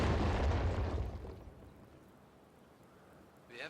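An anti-tank gun destroying a fighting position in a strategy video game: one big booming explosion right at the start that rolls off into a long fading rumble, followed by a quieter tail with a brief sound at the very end.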